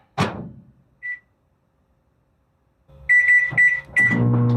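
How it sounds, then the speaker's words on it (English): A microwave oven melting margarine: a thump, a short beep, then silence before the oven starts with repeated beeps and its steady running hum, close and fairly loud, with no voices. "We're going to microwave that butter, melt it, that margarine."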